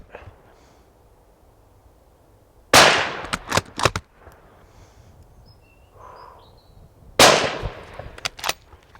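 Two sharp, loud rifle shots from a Haenel Jaeger 10 bolt-action rifle fired outdoors, spaced about four seconds apart, each followed by quick clattering bursts and faint background ambience.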